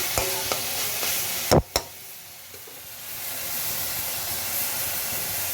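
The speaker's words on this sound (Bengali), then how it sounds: "দেখুন একটু একটু ভাজা ভাজা হয়ে গেছে" Drumstick flowers frying with poppy seeds in a pan, a steady close sizzle and hiss with several clanks of a stirring spoon early on, then a quieter continuous frying sound, no talking.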